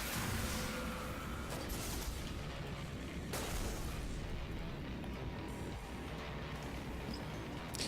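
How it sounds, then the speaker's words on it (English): Scout rifle gunfire from the Destiny video game, the Vision of Confluence firing single shots in dense, booming bursts over a continuous loud game-action backdrop, with one sharper crack standing out midway. "The gun she's holding right now is Vision of Confluence. It's a scout rifle. Shoots one shot at a time."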